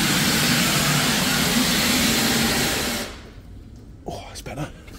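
Steam hisses loudly and continuously from a boiler line drain, a broad roaring rush that cuts off abruptly partway through, after which someone speaks quietly.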